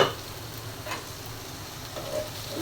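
Malabar spinach and potatoes fry in a pan with a soft, steady sizzle and a few faint stirring clicks, heard up close with no voices.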